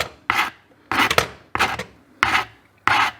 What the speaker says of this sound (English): go back to our rasp, file off any of those darkened areas